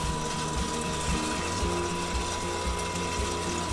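Motor of a popcorn machine turns the kettle stirrer with a continuous mechanical whir and a repetitive ratcheting, clicking rhythm under a steady hum, close and fairly loud.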